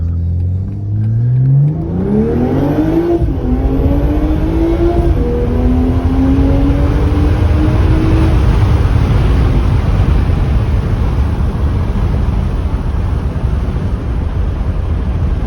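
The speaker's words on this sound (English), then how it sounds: "I want to go ahead and give it a little throttle." A BMW G42 M240i with a muffler delete revs hard in sport mode, its engine note rising steeply and then holding a loud, raspy roar close by for a long stretch, with no talk.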